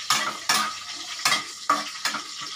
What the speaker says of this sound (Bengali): দেখতে পাচ্ছেন দুটো জিরে ভাজা ভাজা হয়ে গেছে